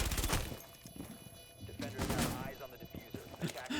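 Machine pistol bursts in the tactical shooter Rainbow Six Siege, sharp rapid cracks in short volleys mixed with other in-game gunfire, under an excited commentator's voice.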